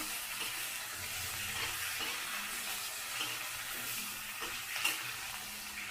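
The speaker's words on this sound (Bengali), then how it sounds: "ঢেঁড়সটা বেশি ভাজা দেবো না, হালকা করে ঢেঁড়সটা ভেজে নেব" Steady, fairly quiet sizzling of okra frying in a pan, with occasional stirring scrapes and small pops, no voices.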